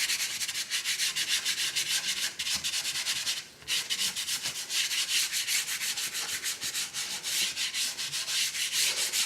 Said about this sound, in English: I'll just take my finger